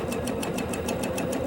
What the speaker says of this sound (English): I'm just going to put the organdy underneath the foot and sew away